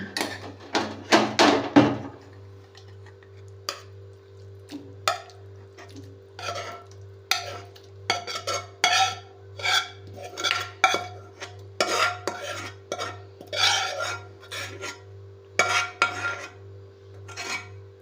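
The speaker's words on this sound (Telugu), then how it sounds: "మిక్సీ జార్లో వేసుకుంటున్నాను." A spoon scrapes a cooled tomato pickle mixture from a vessel into a mixer jar. A few loud metal clinks come first, then a long run of repeated scraping and tapping strokes, close up, with no voices.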